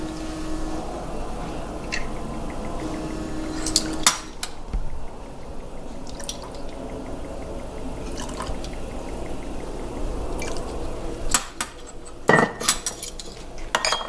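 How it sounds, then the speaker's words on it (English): Hoisin and soy sauce are stirred together in a bowl, with a utensil clinking and scraping against the sides and a few sharper knocks and taps on dishware scattered throughout, close and moderately loud. "We're going to mix everything."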